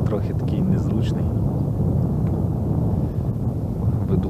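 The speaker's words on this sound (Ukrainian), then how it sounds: "Вітер трохи такий незручний." Wind gusting over an open boat while spinning for perch on a lake in November, a steady low roar buffeting the microphone throughout, loud and continuous with no pauses.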